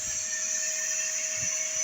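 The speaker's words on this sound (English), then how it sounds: "And I got a vacuum cleaner on lower setting." A vacuum cleaner on a low setting feeds air into a supercharged homemade oil burner melting aluminium, giving a steady, continuous high-pitched whine with a constant tone and faint low rumbles underneath.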